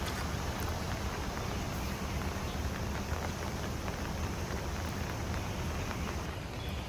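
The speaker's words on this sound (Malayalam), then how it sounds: "ഇപ്പോഴും മഴ പെയ്തുകൊണ്ടേ ഇരിക്കുകയാണ്" Steady rain falls on a street in Xiamen, China, making a dense, even hiss that holds at the same level throughout with no voices.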